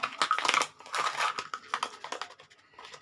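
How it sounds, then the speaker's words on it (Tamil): Lumps of jaggery go into a pan for a split green gram payasam, making dry crunching and crinkling bursts in quick irregular clusters, close and fairly faint, with no talk. "எந்த கப்பில் நம்ம பருப்பு எடுத்தோம் அதே கப்பில் 1 கப்பு வெல்லம்."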